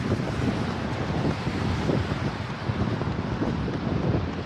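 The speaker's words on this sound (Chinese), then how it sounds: "因为这边下雨，刮风比较严重。" Heavy wind roars and buffets the microphone on a cool, rainy run, a dense, steady rushing noise with no letup.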